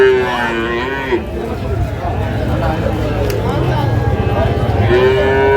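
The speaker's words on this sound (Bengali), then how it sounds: "এই যে একটা ষাঁড় বাচ্চা" A young bull calf lets out two loud moos, one at the start and one near the end, with people talking in between at Ambari cattle market in Dinajpur, Bangladesh.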